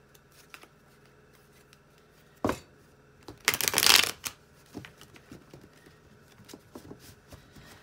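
Tarot cards riffle and shuffle in a quick burst, preceded by a sharp tap and followed by soft handling clicks, close and otherwise quiet.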